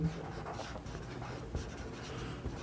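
A pen writes on paper close by, with quiet continuous scratching in short strokes and no voices.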